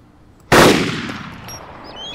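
A single loud gunshot in the survival video game DayZ, close and sharp, with a long echoing tail that fades over about a second and a half; no talking.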